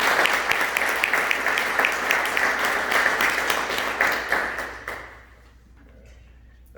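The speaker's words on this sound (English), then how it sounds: "Please join me in a big round of applause for all the 2020 award nominees." Applause for Realtor of the Year nominees at a realtors association candidate forum, a steady crowd of hands clapping for several seconds before thinning out and fading into near silence.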